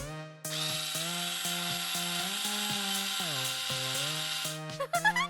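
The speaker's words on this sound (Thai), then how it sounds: "แฮร์รี่ หยิบสว่านมาให้พี่หน่อยสิ" A whining power drill runs steadily, its pitch dipping and rising as it works, with a short burst of rattling at the end.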